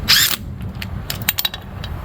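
A ratchet snugs up bolts on an old tractor: a short, loud zip at the start, then a run of light, close clicks and ticks at an uneven pace.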